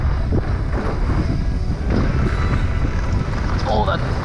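Strong wind roars steadily across the microphone at a mountain bike park in Big Bear, loud and continuous throughout, with brief voices in the gusts.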